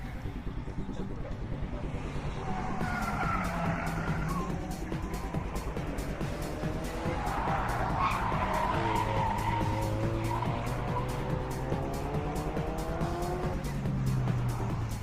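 A Nissan 180SX drift car fitted with a Power Enterprise turbo kit spins at a twin drift meet, its tires squealing and skidding in long wailing sweeps over engine noise, heard from trackside at moderate distance.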